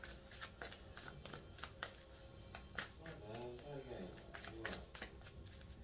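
Tarot cards being shuffled, a series of crisp riffling flicks and soft slaps repeating throughout, with a voice speaking over the shuffling.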